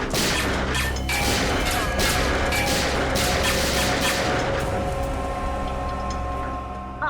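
Loud sharp bangs and cracks in a rapid burst of gunfire from a TV crime drama scene, over a busy dramatic background with music-like tones.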